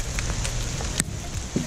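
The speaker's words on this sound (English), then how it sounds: "that's hail. And it's really coming down." Hail pelting down outdoors at a tiny shed-turned-home after a sunny day, a steady broadband patter with scattered sharper hits, fairly loud and continuous with no talk.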